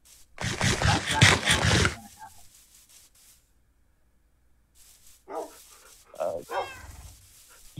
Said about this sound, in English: I have my dogs.